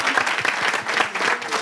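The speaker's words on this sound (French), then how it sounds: "Merci de continuer à applaudir, s'il vous plaît." An audience applauds steadily and loudly as a performer is led offstage at a French competition's results day, with dense, continuous clapping throughout.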